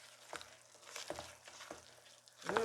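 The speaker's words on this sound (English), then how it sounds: "Dump it all in and mix that together." Almond dough is mixed with browned butter in a pan, giving a faint sizzle with a few soft scraping strokes, slightly louder at the end.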